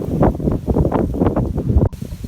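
Heavy gusts of wind on Bear Mountain batter the microphone in uneven low rumbling bursts, close and loud, ending abruptly.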